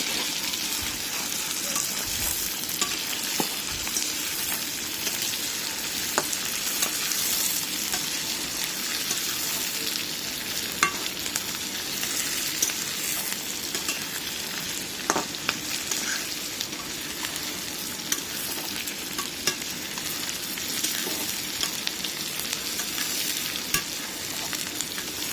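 Dried red chilies fry and get stirred in a pan, giving a steady, close crackling sizzle with scattered utensil scrapes throughout.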